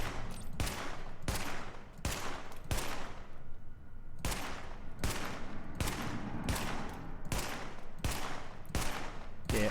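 SMG gunfire in The Division: sustained automatic bursts, rapid cracks repeated in a steady pattern of roughly a dozen short volleys, close and loud, with no speech.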